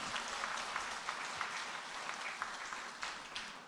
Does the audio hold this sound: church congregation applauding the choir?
yes